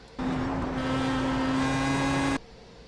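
Pro Mazda race car engine in the iRacing sim at the Nürburgring, a steady high-pitched drone held for about two seconds, abrupt start and stop, loud and alone.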